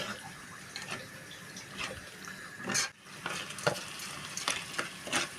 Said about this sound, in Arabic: والكبده والقنصه اهي هنقلبهم في بعض.